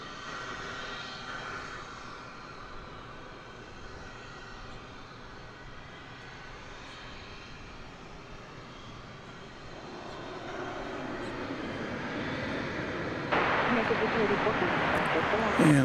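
Passenger jet on the runway at DFW Airport, its engine roar building steadily louder and closer toward the end, with voices talking underneath.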